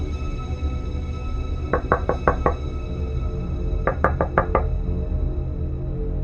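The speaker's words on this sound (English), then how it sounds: "Someone was banging heavily on the main door." Two bursts of heavy knocking on a main door, each a rapid series of about five loud thuds, separated by a short pause over a steady low hum.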